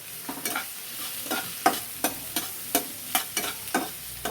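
Onions frying in a pan for chicken stew, stirred with a spatula in a quick, regular series of scraping strokes over a soft, steady sizzle, close and loud, with no talk.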